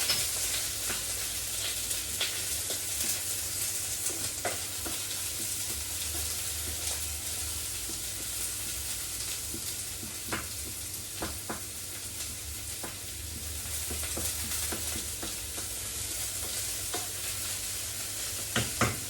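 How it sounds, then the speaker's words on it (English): Onions sauteing in a pan for a bean sprout salad, a close, even sizzle that runs the whole time, broken by repeated scraping stirs and occasional sharp spatters. "I love that sound. Something about sauteing onions, it's just love it."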